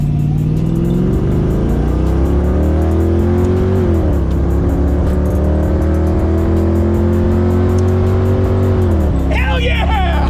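A car engine roars at full throttle, pitch climbing steadily through the gears with brief dips at shifts, loud and close throughout.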